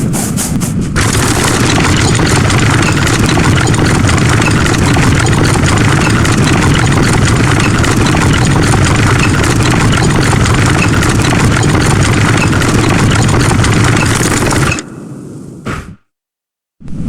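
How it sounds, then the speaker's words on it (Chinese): A custom-built ground vehicle fitted with several turbine engines roars in the game Where Winds Meet, a loud, steady, dense engine drone that holds for about fifteen seconds and then cuts off abruptly into near silence. "決定再給它安裝5台渦輪發動機，讓它超光速運行"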